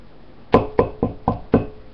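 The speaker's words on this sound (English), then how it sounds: "I hear knocking." Five sharp knocks spaced about a quarter second apart, loud and close, with nothing else audible around them.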